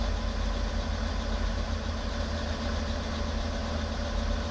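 A Robinson R44 helicopter engine warming up at 70% throttle makes a steady, loud, droning hum with a constant low throb and airy whine, with no talking.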